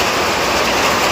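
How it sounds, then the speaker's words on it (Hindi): Heavy rain pounds a tin roof in a hill village, a dense, continuous roar of water with no pauses and no voices. "दोस्तों आवाज़ से आपको पता लग रहा होगा कि बाहर कितनी ज़्यादा तेज बारिश आ रही है।"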